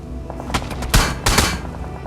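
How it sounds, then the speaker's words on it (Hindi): Bursts of gunfire in the battle royale game BGMI, several sharp shots and short rapid volleys over about two seconds, fairly close and loud against a steady game background. "तो यहाँ से जैसे ही गया तो पीछे से आया फायर मेरे पे।"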